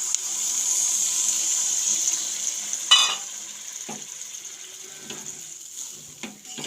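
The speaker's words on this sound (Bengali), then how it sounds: "এই অবস্থায় দিয়ে দেবো সামান্য একটু জল" Masala fries in a pan as water is added for a fish gravy, with steady sizzling and a brief splash and stir partway through, close and fairly quiet with no talk.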